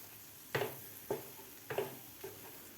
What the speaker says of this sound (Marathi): आता आपल्याला हे व्यवस्थित मिश्रण घट्टसर होईपर्यंत आपल्याला हे परतून घ्यायचं आहे.